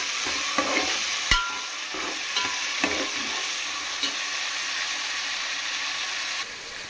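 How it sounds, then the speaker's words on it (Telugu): Tomatoes, green chillies and onions fry in oil for a goat head curry, a loud, continuous sizzle close by, punctuated by a few sharp clacks and scrapes of stirring, with no voices. "ఈ నూనెలో టమాటాలను, పచ్చిమిరకాయలు, ఉల్లిపాయలు వేసి మనం కొంచెం ద్వారగా వేగనిచ్చుకున్నాం"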